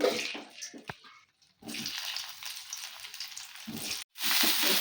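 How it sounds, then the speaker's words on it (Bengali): Potatoes and cauliflower frying in fish oil in a home kitchen pan, giving a bright, broadband sizzle in loud bursts broken by brief quiet gaps. "আলু আর ফুলকপিগুলো একটু লাল লাল করে ভেজে নেব।"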